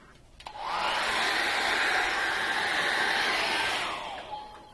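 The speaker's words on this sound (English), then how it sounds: "I'm just going to give that a quick dry with a hairdryer." A hairdryer blows steadily on wet acrylic paint for a quick drying, a close, loud whooshing drone that switches on, holds for about four seconds and then stops.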